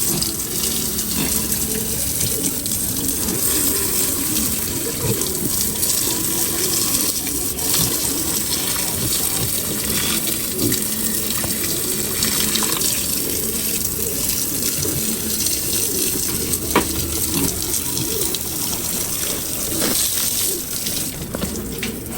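Water sprays steadily from a hose while a pig pen is washed down, a continuous close rushing and splashing that runs unbroken throughout.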